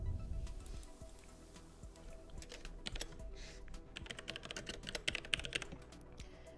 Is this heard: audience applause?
no